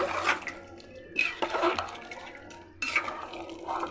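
Hot water poured into a pot of country chicken curry, splashing and gurgling in three bursts of pouring with short pauses between, close and moderately loud, with no talking.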